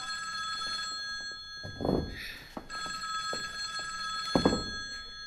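A telephone bell rings on and on in an indoor room, a steady, shrill ringing that continues while people speak over it.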